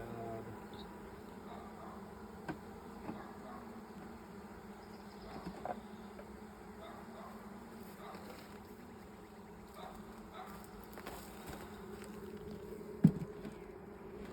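Honey bees swarm around backyard beehives while a beekeeper adds frames, producing a steady, close, continuous buzzing drone broken by occasional soft knocks and a sharp click near the end.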